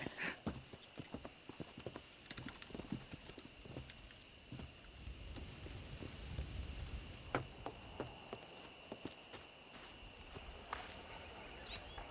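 Hooves clip-clop steadily as horses walk over ground in the video game Red Dead Redemption, close and moderately loud, with a faint steady background hum and no speech.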